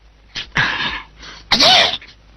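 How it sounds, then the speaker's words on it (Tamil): Two loud, sharp bursts from one person, a short one and then a stronger one, sounding like sneezes in a quiet room. "யார் தும்முனது?"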